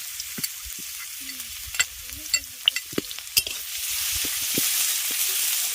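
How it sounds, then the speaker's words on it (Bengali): Dried red chillies and crushed garlic fry in hot oil, with sharp spitting pops and stirring clatter that settle into a steadier rising sizzle, heard up close with no talk. "তেল গরম হয়ে গেছে এবার দিয়ে দিচ্ছি শুকনো লঙ্কা আর রসুনটাকে থেতো করে রেখেছিলাম দিয়ে দিচ্ছি"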